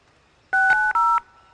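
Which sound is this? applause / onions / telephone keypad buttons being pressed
telephone keypad buttons being pressed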